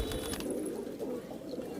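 Rajasthani pigeons kept by a fancier coo in a continuous low, throaty murmur, several birds close together, with no talk over them.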